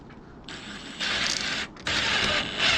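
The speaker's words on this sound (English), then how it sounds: "I'm able to do it pretty well with an impact gun. Actually better in my case than with a regular drill" An impact gun drives a screw into a corrugated polycarbonate shed roof in two or three bursts of close, loud rattling hammering, separated by short pauses.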